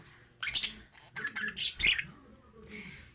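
A budgie gives several sharp, shrill squawks and chirps in short bursts, close by, with brief quiet gaps between calls.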